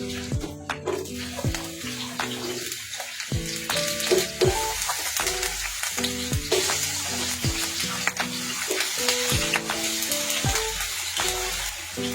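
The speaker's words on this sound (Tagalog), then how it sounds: "Lagay tayo ng oil." Oil sizzles and crackles loudly in a frying pan while a dish of tuna with tomatoes and potatoes is cooked, with close, continuous frying noise and clinking utensil strikes throughout.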